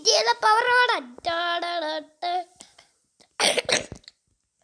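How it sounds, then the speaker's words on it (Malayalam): Two or three short, rough coughs burst out near the end, following a run of drawn-out voiced vocal sounds from a young-sounding voice. "അല്ലെങ്കിൽ തന്നെ ചുമ"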